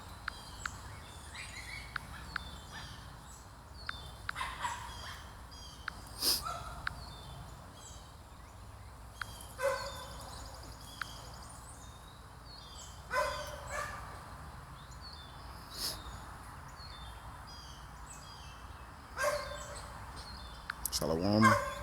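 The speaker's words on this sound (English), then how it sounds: "Got that loud ass dog" A loud dog at a campsite barks in scattered, irregular bursts over steady outdoor background noise, with people talking nearby and some gobbling, bird-like calls mixed in.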